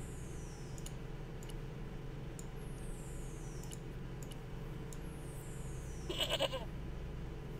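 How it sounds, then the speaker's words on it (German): A goat bleats faintly in the point-and-click adventure Baphomets Fluch, a short wavering cry near the end, preceded by soft clicks over a steady low background hum. "Warum kommt immer dieses Ziegengeräusch?"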